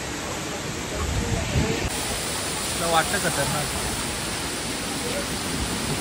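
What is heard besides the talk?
waterfall near a temple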